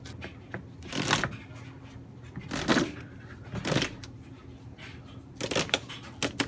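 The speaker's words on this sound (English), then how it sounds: "you're just going to peel a piece off of it" Adhesive tape is peeled off a roll in several loud, rasping tearing bursts separated by short pauses, heard up close with no speech.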